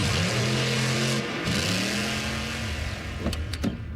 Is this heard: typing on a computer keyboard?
no